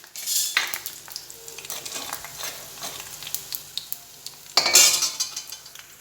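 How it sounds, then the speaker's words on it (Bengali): Fried boondi drops tip into warm sugar syrup in a pot, with close scraping stirs, light clinks of a metal spoon against the pan, and a brief soft sizzle, all in short irregular bursts with no talking. "ভেজে ভেজে বোঁদেগুলো রসে আমি দিয়ে দিচ্ছি"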